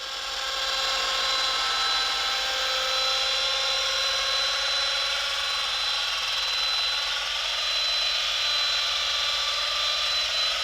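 A machine polisher lays paste wax onto the paint of a Toyota GR Yaris, producing a continuous high, whining motor tone that stays steady and close for the whole stretch, with no talking.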